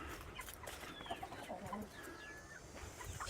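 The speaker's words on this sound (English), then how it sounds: "Small chickens." Small farm chickens cluck in a busy backyard pen with goats kept nearby, soft repeated clucks scattered over steady outdoor background noise and chirpy bird calls.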